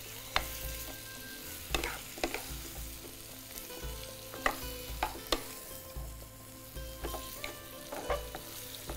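Ingredients sautéing in a pan over low heat, a steady soft sizzle broken by repeated sharp scrapes and clacks of a spoon stirring against the pan, fairly close with no talking.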